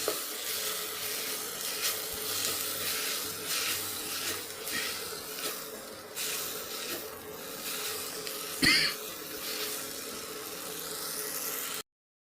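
Fried beans stirred in a pan for a beans curry, a steady soft sizzle with faint scraping strokes throughout, close and quiet, with one brief clink near the end.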